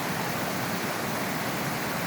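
A waterfall at Carters Lake in the Ridgeway Recreation Area roars as a steady, dense, unbroken rush of falling water, close and loud with no voices over it.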